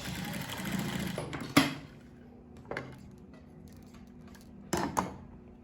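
A sewing machine stitches fabric for a cargo pocket in short bursts: three or four sharp, clattering runs separated by quieter pauses with faint handling noises, fairly close and with no talk over them.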